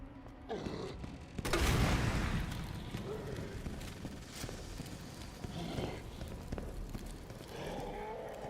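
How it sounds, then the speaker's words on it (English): A grenade goes off in Resident Evil 2, a sudden heavy blast that rises sharply and rumbles before fading into lingering game noise, with a player talking intermittently. "Another grenade."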